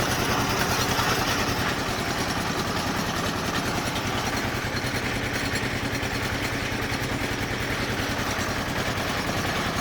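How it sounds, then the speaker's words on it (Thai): A small pickup-mounted well-drilling rig's engine runs continuously at close range, its low throbbing pulse and mechanical clatter unchanged throughout. "เห็นเป็นรถเจาะกระบะคันเล็กๆ อย่างเงี้ย เจาะได้ลึกสูงสุดร้อยเมตรเลยนะครับเนี่ย"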